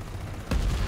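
A blaster firing in the video game Warface on a Mars map, a single loud sudden burst cutting in halfway through after a quieter lead-in, followed by a rumbling tail.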